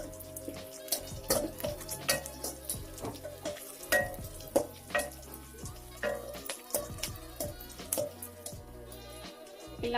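Onions frying in a pan for Telugu bagara rice, a soft sizzle broken by repeated spatula scrapes and stirring knocks in an uneven rhythm, fairly quiet and close, with no voices.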